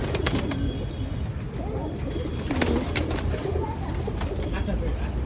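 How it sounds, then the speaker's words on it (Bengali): Pigeons coo on a farm with many birds around, their soft throaty calls overlapping in a steady close chorus, with wing flaps and chirps mixed in while a person talks nearby. "দেখছেন, অনেক অনেক অনেক পর্যাপ্ত পরিমাণ কবুতর।"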